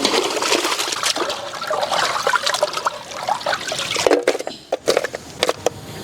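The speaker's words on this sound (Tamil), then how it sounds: "மீன் சூப்பராக க்ளீன் பண்ணிவிட்டு கீரல் போட்டாச்சுங்க. இப்போ நல்லா கழுவி எடுத்துடலாம்." Cleaned and scored kanakatha fish being rinsed in water: steady splashing and trickling, close up, breaking into separate splashes and drips toward the end.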